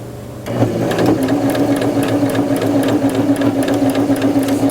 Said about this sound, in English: Line up edge of the presser foot with the seam and sew straight down.